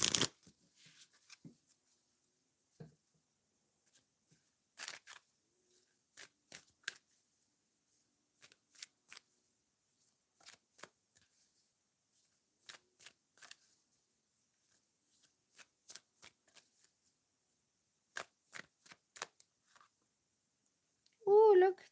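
Tarot cards being shuffled and flicked out one at a time during a tarot reading, making short papery snaps and riffles scattered irregularly across a quiet room, with a brief voice near the end.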